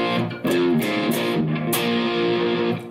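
A heavily distorted electric guitar plays a short riff of sustained, buzzing notes, loud and up close, with no talking.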